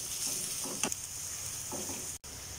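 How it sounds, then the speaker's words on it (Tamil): Onions sautéing in oil in a kadai with green chilli and whole spices, a steady close sizzle broken by two bursts of spoon stirring and scraping against the pan, with no talk. "வெங்காயம் சேர்த்து நல்லா வதக்குங்க."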